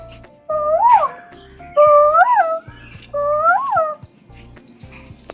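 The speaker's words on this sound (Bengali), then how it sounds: "চি চি করে এটা পাখি ডাকছে" A bird calls three times in rising-and-falling chirps, each followed by a pause, loud and close over a low background hum, with a thin high whistle near the end.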